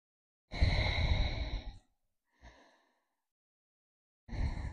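Deep breaths drawn in while leaning forward with arms crossed during a chest-opening exercise: a long inhale, a short soft breath, then another deep intake, close and clear with silent gaps between.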